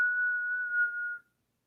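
A single steady whistled note, clear and close, held for just over a second before it cuts off into silence, with no talking.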